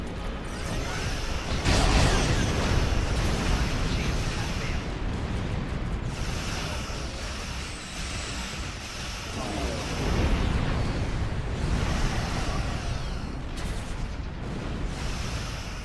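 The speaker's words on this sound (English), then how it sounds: "Multizielerfassung. Torpedos volle Streuung." Torpedoes launched in a full spread during a Star Trek Online space battle: continuous booming explosions and whooshing blasts with a dense rumbling bed, swelling around the middle and near the end.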